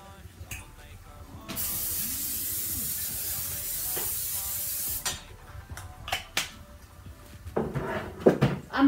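A can of Pam spray butter hisses in one steady burst lasting several seconds, close up, followed by clattering and light handling noises.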